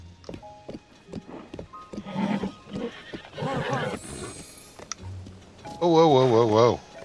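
A horse in the video game Zelda: Tears of the Kingdom neighs and whinnies loudly near the end, after softer snorts, hoof clip-clops and earlier whinny calls, with a person talking over parts of it.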